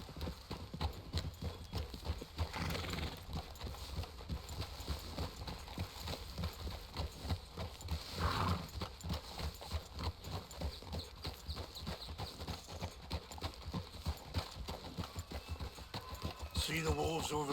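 Horse hooves clip-clop in a steady rhythm during a ride through a video game, with voices speaking in spots over the hoofbeats.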